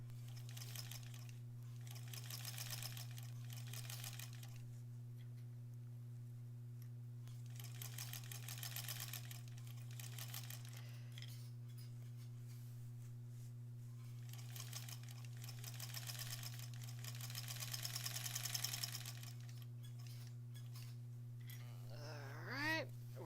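Sewing machine stitching a granny squares quilt, running in long steady bursts with short pauses, close and fairly loud over a constant low hum.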